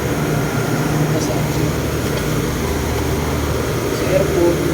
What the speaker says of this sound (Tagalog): Maingay dahil sa dito kami sa may makina sa taas.